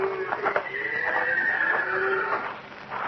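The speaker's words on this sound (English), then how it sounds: "One of the horses must have walked down the trail a piece." A horse neighs at night on a western trail, a loud drawn-out whinny close by with faint hoof clip-clop beneath, no talking.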